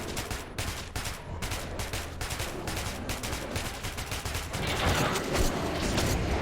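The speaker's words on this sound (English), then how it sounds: "This is why I hate the bastard gun!" Rapid automatic gunfire from the bastard gun in the video game Metro 2033, a dense continuous stream of sharp shots that carries on throughout and grows slightly louder and harsher toward the end, with no speech.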